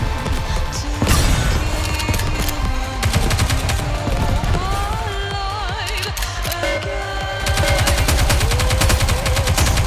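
Gunfire in the video game Goddess of Victory: Nikke: steady rapid automatic bursts over battle music and effects, loud and continuous throughout with no pauses.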